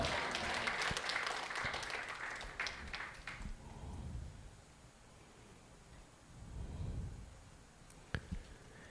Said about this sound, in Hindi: ताली बजा के धन्यवाद करें